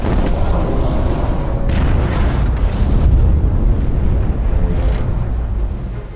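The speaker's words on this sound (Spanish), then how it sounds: "La explosión acaba con la vida de 30 marineros" A torpedo strikes a ship at sea in World War II, a massive roaring blast that rumbles on continuously, loud and close, with churning low booms and windy, watery noise throughout.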